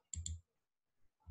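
A computer mouse clicking close by, a quick pair of sharp clicks, a faint tick, then another single click after a short pause.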